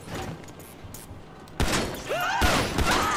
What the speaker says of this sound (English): you can shoot it right in the armor plating